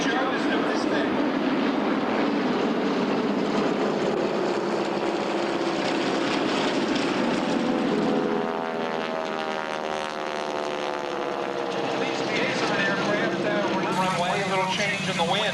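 Propeller aircraft taxi at an air show, a loud droning engine rumble with a pulsing, wavering beat that shifts in pitch as the planes move past, with a voice speaking over a public address.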